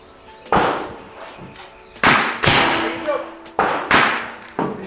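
A big bore 9mm airgun firing at a range: several loud, sharp cracks, each followed by a brief decaying tail, spaced about a second apart, with people talking quietly in between.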